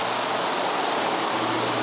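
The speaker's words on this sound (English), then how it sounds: "This waterfall at Bridal Falls has become a tourist magnet, attracting people from near and far." Waterfall at Bridal Falls in the Sierras, swollen with warm-weather snowmelt, gives a steady, dense rushing roar that holds evenly throughout, with no voices.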